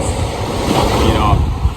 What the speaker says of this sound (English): except for the sound of the water, which I love